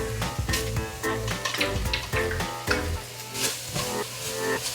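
Shiitake mushrooms stir-fry in oil in a pan, a continuous sizzle with repeated scraping and tossing strokes from the spatula, close and busy, without speech.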